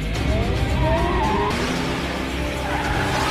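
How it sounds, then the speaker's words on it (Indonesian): A car swings through a sharp U-turn to chase another car, its tires squealing and skidding over a loud, rushing engine and road roar that shifts abruptly midway. "Sawamura langsung putar balik untuk mengejar mobil tersebut"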